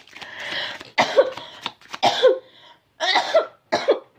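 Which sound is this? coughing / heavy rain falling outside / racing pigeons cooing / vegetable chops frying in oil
coughing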